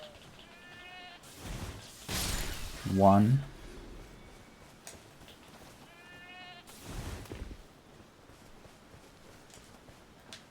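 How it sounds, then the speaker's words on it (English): Sheep bleat in the video game Elden Ring, two short wavering calls a few seconds apart, the first followed by a louder crunching hit, while a player talks over the game sounds. "Those are not the sheep that I want to kill."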